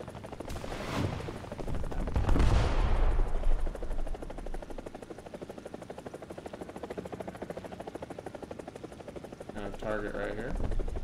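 Rapid, continuous M134 minigun fire from an AH-1G Cobra gunship in the War Thunder video game rattles over a loud helicopter rotor drone, with a voice speaking near the end.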